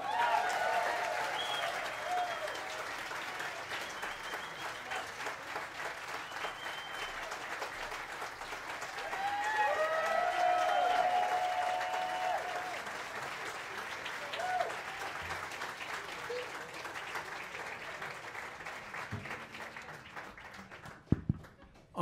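Audience applause fills a jazz club after a piano trio performance, a steady sustained wash of many hands clapping at moderate distance that swells midway and fades near the end.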